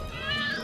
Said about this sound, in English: Hope you like cats.